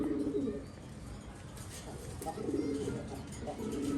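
Medium-sized pigeons cooing close by in a loft, soft low repeated coos over a noisy background with faint movement.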